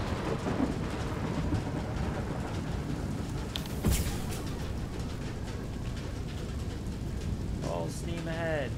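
A storm in the video game FAR: Lone Sails: a dense, constant roar of rain with one sharp thunder crack near the middle and brief tonal swirls near the end.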